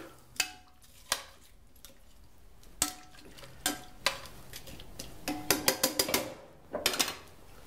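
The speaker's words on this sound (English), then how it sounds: "And then all you do there is just stir to combine." A spoon stirring beef and barley stew with bay leaves in a pot, quiet scraping between sharp knocks and clinks against the sides, clustering into a quick run of taps near the end.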